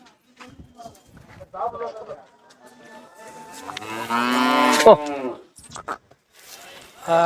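Karampasu cattle low at the Anthiyur temple car festival cattle market, one long, loud, close moo rising over scattered shorter calls, hoof clops and voices nearby.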